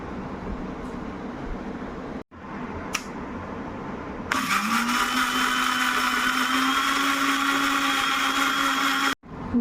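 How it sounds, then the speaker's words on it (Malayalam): A mixer grinder whirs loudly as it blends whole ragi with a cup of milk, starting after some clattering handling and running as a steady high whine before cutting off abruptly. "കപ്പ് പാലൊഴിച്ചിട്ട് അടിക്കാൻ പോകുന്നു."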